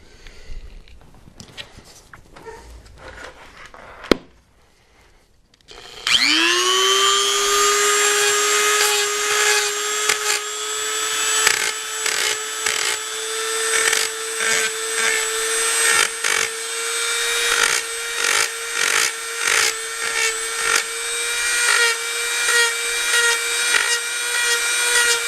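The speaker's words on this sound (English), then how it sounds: "For this, you can use a Dremel with the sanding bit attached." A Dremel rotary tool with a sanding bit spins up with a sharp high whine after a few quiet taps, then keeps sanding a fan-built helmet in a loud, steady buzz broken by rhythmic dips as it bites the surface.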